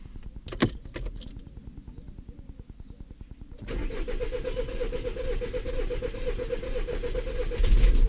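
After an injector replacement, a 1.6 TDI diesel engine cranks with a rapid chattering starter for a few seconds, then catches and settles into a loud, steady diesel idle, preceded by a brief jingle of keys.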